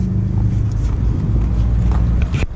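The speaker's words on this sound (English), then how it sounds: "It's a BRZ with an unequal link header and a tune. Definitely gives it a little bit more of that rumble." A Subaru BRZ fitted with an unequal-length header and a tune gives a loud, deep exhaust rumble close by at a car meet, holding steady before cutting off abruptly near the end.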